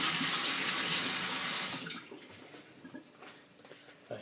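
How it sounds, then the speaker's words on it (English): A kitchen tap gushes loudly for about two seconds while hands are washed, then the water stops and quieter drips and handling noises follow. "Now you're going to hear me wash my hands for a minute."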